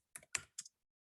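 Three quick keystrokes click on a computer keyboard while quiz answer text is typed into PowerPoint, close and crisp, followed by silence.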